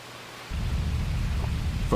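A deep, steady roar of rain and rolling thunder from a terrible storm over a village in the video game Grandia 2, swelling abruptly after a brief quieter opening and holding loud to the end.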